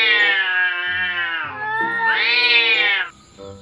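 A domestic cat meows loudly and close, in long drawn-out, wailing calls, one after another with a brief pause, then a short quieter sound at the end.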